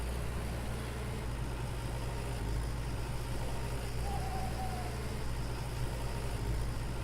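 A tractor engine in the farming game Farmer's Dynasty drones steadily at a low, even pitch throughout, loud and close, with no talking.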